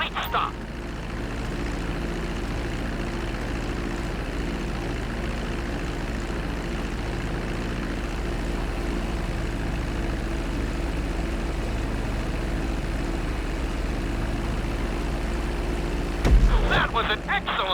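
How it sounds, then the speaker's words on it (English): Steady droning engine of an airplane taxiing on a runway in the video game GTA V, loud and constant throughout, with a brief louder thump near the end. "Now let's get the plane off the runway. Taxi over to the marked area and come to a complete stop."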